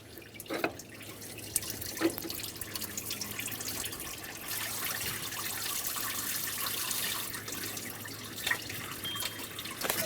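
Coolant drips and trickles steadily as the water pump comes off a 2014-2018 Chevrolet Silverado 1500 with the 5.3L V8, a continuous close wet patter with occasional louder drops.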